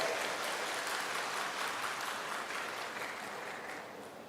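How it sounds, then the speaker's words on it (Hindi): A large crowd at an official tribal heroes commemoration in Madhya Pradesh applauds to welcome a minister. The clapping is a steady, distant-sounding roar that holds throughout and tapers slightly toward the end. "तालियों की गड़गड़ाहट के साथ उनका अभिनंदन हम करें"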